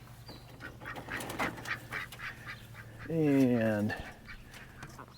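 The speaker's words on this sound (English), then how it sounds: "these ducks are really scared of people, I guess" Ducks in a coop pen give a loud, close quacking call about three seconds in, preceded by scattered softer fowl noises, with someone speaking briefly over the background.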